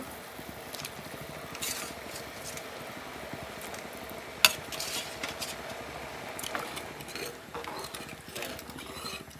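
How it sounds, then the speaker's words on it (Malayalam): Tamarind being stirred into a boiling fish curry (thedu curry) makes a soft, steady bubbling and sizzling with scattered light scrapes and one sharp click midway, quiet and continuous. "പുളിയൊക്കെ ഇട്ടിട്ടൊന്ന് ഇളക്കി കൊടുക്കുന്നുണ്ട്"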